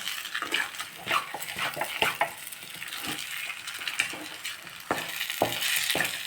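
Rice and coconut mixture being dry-roasted in a pan, stirred constantly with a utensil. It gives a steady scraping and rustling with frequent light clacks against the pan, close by and fairly loud.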